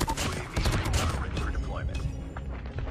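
Rapid, close bursts of M-16 rifle fire in Call of Duty Mobile, punchy repeated shots densest early on and continuing more sparsely, mixed with game sounds and some talk.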